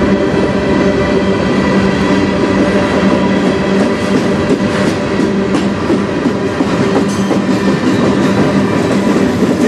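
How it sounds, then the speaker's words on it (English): A CN M382 manifest freight train led by locomotives 3865, 3030 and 3050 rolls past on the Strathroy Subdivision, a loud, continuous rumble and clatter of wheels and cars that stays steady and close throughout. "Big train."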